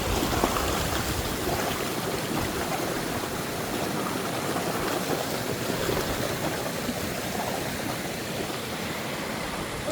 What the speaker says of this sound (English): Yeah, we got a little creek crossing.